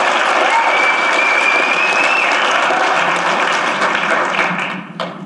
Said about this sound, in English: Let's give another round of applause for Travis and Dominic.